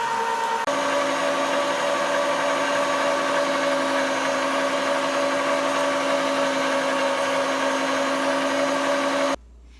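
An electric meat grinder runs steadily, grinding venison for sausage: a loud, constant motor whine and hum that stops abruptly near the end.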